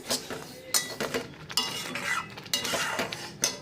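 Semolina (suji) dry-roasting without oil in a pan, with a metal spoon scraping and clinking against the pan in irregular bursts, close and fairly quiet, with no talk.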